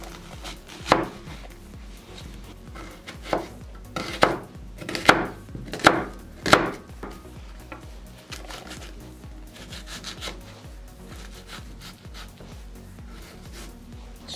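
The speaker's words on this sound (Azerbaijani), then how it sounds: "Bir dənə də soğan doğrayıram." Onion being cut with a knife on a board, a loose cluster of close chops and scraping strokes in the first half, then quieter rubbing and faint handling sounds.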